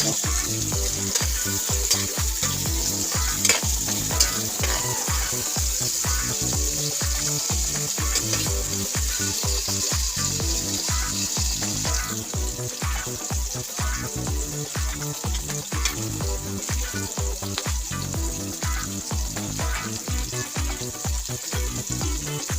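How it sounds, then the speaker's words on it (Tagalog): Tilapia sizzles in hot oil in a pan, a loud, steady crackling fry with rhythmic stirring or scraping scrapes throughout, and a brief spoken word partway in. "Medyo fry natin kunti guys"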